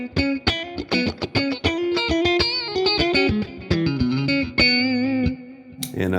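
An electric guitar with a humbucker pickup runs through an effects pedal, playing a quick run of distorted, slightly chorused single notes and held tones, loud and close, without talk.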